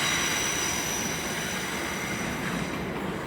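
A Heathrow Express Class 332 train sits at London Paddington station, giving off a steady, loud broadband roar with a faint high whine throughout. No one speaks.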